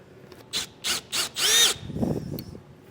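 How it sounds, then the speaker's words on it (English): A power drill drives mounting screws into a Camco manual RV roof vent on a trailer roof, four short whirring bursts in a row, the last longest, then a scraping, rubbing sound, close by, no talking. "start using our mounting screws to hold this down"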